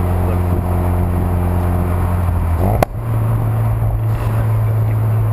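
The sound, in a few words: Ford Focus RS engine during rev-matched downshift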